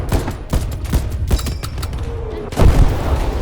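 Battle sounds from a World War II strategy game: rapid bursts of rifle and machine-gun fire crackle continuously, with heavier booming artillery impacts, dense and loud, while a voice talks faintly underneath.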